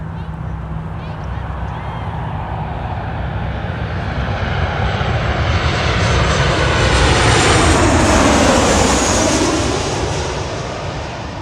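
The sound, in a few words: Alaska Airlines Boeing 737-900 jet engine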